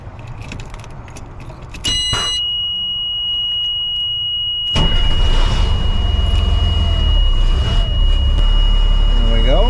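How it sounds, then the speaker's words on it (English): An LMTV military truck's engine cranks and catches, then settles into a deep, steady diesel rumble with a high steady warning beep sounding over it, close and loud. "let's start up the truck and see what happens."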